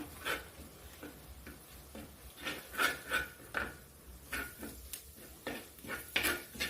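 Sardine curry with coriander and chilli powder being stirred in a pan, repeated rhythmic scraping and knocking of a spoon against the pan, fairly close and clear, no voices.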